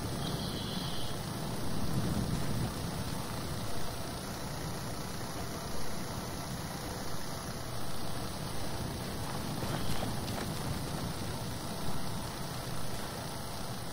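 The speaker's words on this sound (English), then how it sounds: "What the hell is that engine noise?" A vehicle engine in the video game Arma III drones steadily throughout, a constant mid-range idling rumble at moderate level with no speech.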